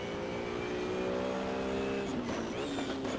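Race car engine in Assetto Corsa, a loud steady whine that rises in pitch and then drops sharply near the end as the gear changes, with the revs climbing again afterward and no talk.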